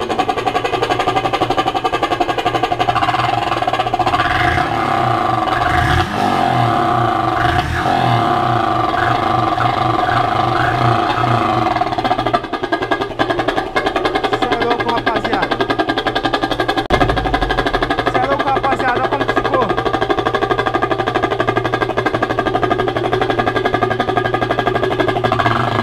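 Motorcycle engine revving through a vuvuzela mounted on its exhaust, a loud continuous buzzing horn tone that rises and falls with the throttle and runs throughout.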